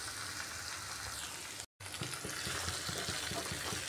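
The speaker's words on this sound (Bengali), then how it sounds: "এবার এর মধ্যে দিয়ে দিচ্ছি পরিমাণ মতো ঝোল" Broth poured into a pan of spiced rohu fish curry, a steady close wash of sizzling and splashing liquid, broken by a brief silent gap, then continuing with bubbling and light ticks.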